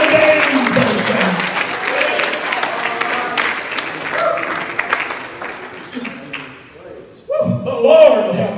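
Church congregation clapping hands in a dense, lively burst, with voices and shouts mixed in, the clapping thinning toward the end before a louder swell of crowd sound.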